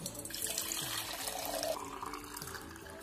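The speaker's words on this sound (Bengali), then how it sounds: "এবার আমি ঘরটিতে জল পূর্ণ করে নেব" Water is poured into a ritual ghot pot for a Thursday Lakshmi puja at home, a continuous close splashing and gurgling fill lasting a few seconds with no talk.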